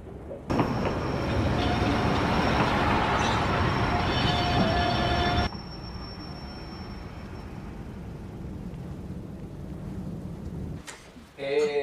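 Steady low rumble of a train rolling along in snowy conditions, loud and continuous for several seconds, then dropping to a quieter drone as it slows to a stop, with a brief clatter at the end.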